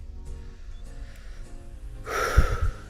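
A person takes a quick, close, audible breath near the end of a quiet stretch, a short sharp intake like a gasp.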